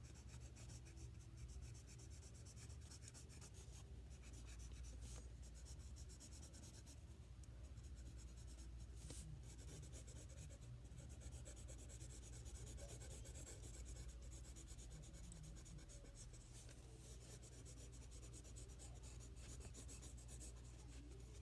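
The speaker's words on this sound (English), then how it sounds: "Now we're gonna be using this crayon brown. And drag it lightly across the paper of your dog." A brown crayon drags lightly across paper while a chocolate Labrador is being drawn, giving a faint, continuous scratchy rubbing with short repeated strokes, close up and steady throughout.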